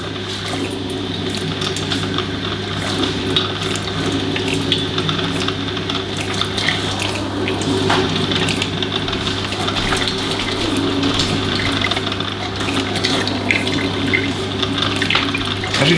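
Two Good Morn drip coffee makers brewing side by side, a steady gurgling, trickling water sound with a low constant hum underneath, continuous and fairly close throughout.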